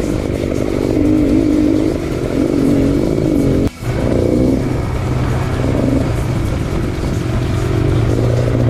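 A Husqvarna 701 adventure motorcycle engine on an adventure-riding route, a close, steady rumbling drone that holds through the whole stretch with one brief drop-off midway.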